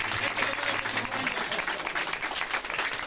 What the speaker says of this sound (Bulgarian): Я едно мощно ръкопляскане.